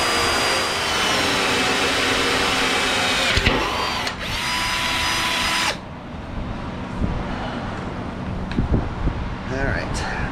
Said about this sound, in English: Holes are drilled.